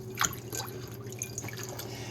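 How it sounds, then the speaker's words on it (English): Spinach is lowered into a bowl of vinegar water in a kitchen, giving a few soft drips and light splashes close by over a faint background hum. "We're going to take the spinach from the vinegar water and just put it"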